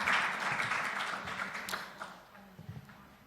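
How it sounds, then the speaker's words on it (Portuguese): An audience at a talk on dementia applauds a speaker, a dense wash of clapping that starts loud and gradually thins and fades, with faint voices underneath. "Grande salva de palmas para o Francisco."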